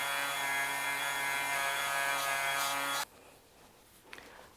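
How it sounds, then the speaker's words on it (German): A cotton buffing wheel spinning at 8000 rpm polishes the handwheel of a vintage Pfaff 30 sewing machine, giving a steady loud whir for about three seconds before it cuts off, leaving faint quiet handling noise. "Reiben das gut ein und wir polieren mit unserer Baumwollscheibe auf"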